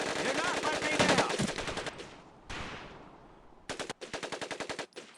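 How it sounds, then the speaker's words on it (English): Bursts of Thompson submachine gun fire from the Medal of Honor: Pacific Assault video game boot camp, loud rapid automatic strings followed by a pause, then another sharp run of evenly spaced shots. "An affinity for automatic weapons, Private Conlon. Your new name is Private Tommy Gun"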